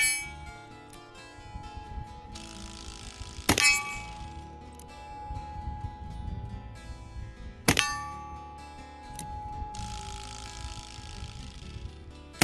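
Bullets from a .38-40 Cimarron Model P 1873 revolver strike a large steel gong, giving two sharp metallic clangs several seconds apart, each ringing out over a busy outdoor background with faint clinks.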